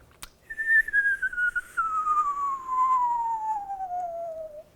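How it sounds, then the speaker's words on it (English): A single long, clear whistle glides slowly downward in pitch over several seconds, steady and fairly loud with a faint hiss behind it. "They make a whistling noise, kind of."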